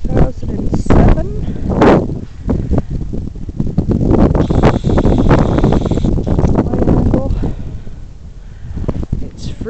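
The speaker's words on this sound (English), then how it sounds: "It's freezing, it's below 20, and as you can see, it is windy." Strong, freezing wind below 20 degrees buffets the microphone in Centralia, Pennsylvania, with loud, continuous rumbling gusts throughout, and a voice talks intermittently beneath the noise.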